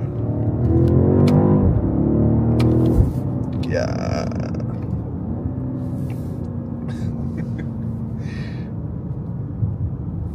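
BMW M850i engine pulling hard at full throttle on a driving-experience course in Atlanta, a loud rising drone with a gear-change dip, then a steady lower roar while people talk over it.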